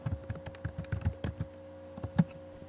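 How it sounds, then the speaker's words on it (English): Someone types a name on a computer keyboard, a quick run of soft key taps with an irregular rhythm under a steady low electrical hum, close and fairly quiet. "you're going to type in your name"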